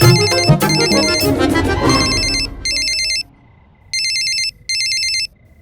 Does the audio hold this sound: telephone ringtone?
yes